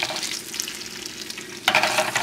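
Minced garlic sizzles and bubbles in butter in a pan over a moderate flame, a steady close frying hiss that jumps noticeably louder and brighter near the end.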